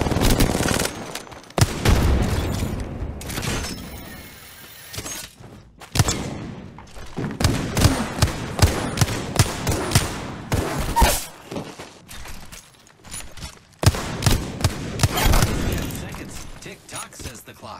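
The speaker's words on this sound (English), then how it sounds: "Throwing arsenal. Frag out." Frag grenade thrown during a shooter video game match: repeated sharp bursts of gunfire, thuds and booms come in clusters, loud and close, mixed with game voice lines.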